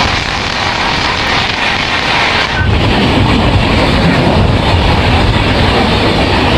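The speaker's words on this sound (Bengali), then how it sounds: "আমাদের সঙ্গে এখন দেখা হবে 12342 অগ্নিবীণা এক্সপ্রেস, চলুন দেখে নিই।" The 12342 Agniveena Express rushes past at close range, a loud, continuous roar of wheels and wind with faint rhythmic rail clatter and buffeting that stays steady throughout.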